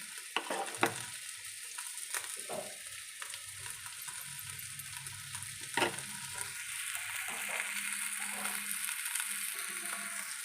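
Bangda mackerel frying in a little oil on a flat tawa, a soft continuous sizzle with occasional crackles and a few sharp ticks, close and steady, with no talking.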